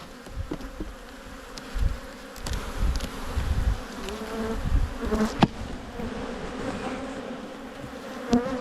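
Bees buzz steadily around an opened beehive, a dense close drone with louder swells as individual bees pass near, alongside faint handling knocks and scrapes.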